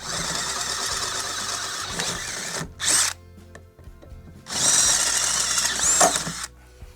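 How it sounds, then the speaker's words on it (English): A power drill with a 1/4 inch bit bores clearance holes through a mounting bracket while an on-board air system is installed on a Jeep: one short whine burst, then a longer second run, amid quiet workshop background. "clearance those two holes real quick with a 1/4 inch drill bit"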